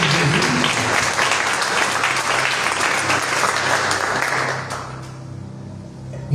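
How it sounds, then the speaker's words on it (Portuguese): Sustained applause from a church congregation during a service, dense and steady clapping with faint sustained tones underneath, fading down near the end. "Dê a Ele as suas palmas."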